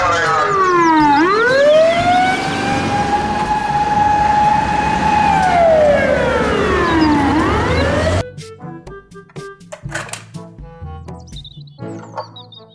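Toy fire truck siren wailing loudly in a long rising and falling sweep for about eight seconds, then cutting off into a scatter of sharper clicks and short electronic tones.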